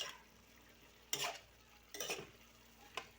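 A spoon stirs chicken minudo with carrots and potatoes in a pan, making three distinct scraping strokes spaced about a second apart over a faint, steady sizzle.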